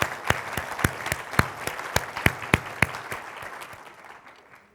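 Applause from a MUFON conference audience: sparse, distinct claps from a small group that thin out and fade toward the end.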